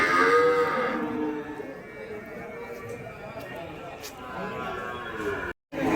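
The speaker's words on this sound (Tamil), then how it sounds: "ஸோ நாட்டு பசு மாடு ஒரு ஜோடி இருக்குங்க பாருங்கள்." Native cows, one white and one reddish-brown, at a busy village cattle market, with a clear moo near the start over crowd chatter and market noise.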